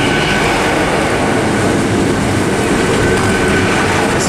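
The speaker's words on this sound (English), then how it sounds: "arriving now is a 1523 Great Western Railway service to Great Mullein. 800 306 from London Paddington." A Great Western Railway Class 800 train, unit 800 306 in memorial livery from London Paddington, arrives at Oxford station with a loud, close, continuous rumble of wheels and motors that fills the whole stretch.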